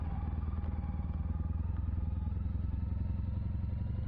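A Honda CTX motorcycle idling close by, a deep, even throbbing rumble with a fast regular pulse and a light mechanical clatter, steady throughout with no speech.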